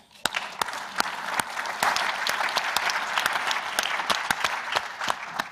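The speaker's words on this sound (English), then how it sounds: "the Angela and the program deserve a round of applause" Audience at an annual meeting's president's forum applauds steadily, with dense clapping and a few sharp, close individual claps punctuating the wash, no voices over it.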